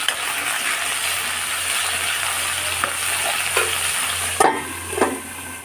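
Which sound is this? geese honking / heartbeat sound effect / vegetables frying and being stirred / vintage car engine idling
vegetables frying and being stirred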